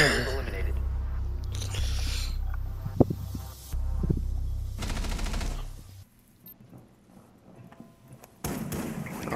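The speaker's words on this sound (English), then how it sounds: "Oh shit, they're shooting." Bursts of automatic gunfire in a Rainbow Six Siege solo queue match, rattling quickly in the first half before fading to quieter game ambience, with a player talking over it.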